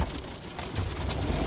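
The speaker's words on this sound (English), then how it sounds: "It's raining!" Steady rain hisses and patters close by, a dense, even wash of falling drops with no voices.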